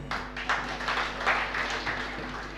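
An audience claps together during a religious discourse, a sustained patter of many hands that rises and falls across the moment, with no speech on top.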